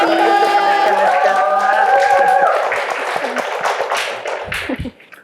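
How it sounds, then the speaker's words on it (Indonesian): An audience at a student talk show claps after a sustained tonal sound dies away, the clapping building briefly with some murmuring before it fades out. "Tepuk tangan dulu, Kak."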